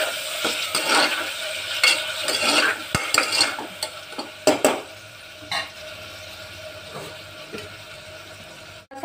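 Ginger, garlic, onion and tomato sautéing in a pan, with repeated close scraping strokes of a spoon over a soft sizzle, busy at first and then thinning to quieter, sparser stirring.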